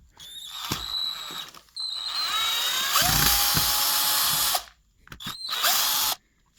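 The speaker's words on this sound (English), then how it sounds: "remove the screws" An electric screwdriver backs screws out of an old Budget BSS5705P jigsaw, giving loud, close whirring bursts in several runs of a second or more, separated by short pauses, with no talking.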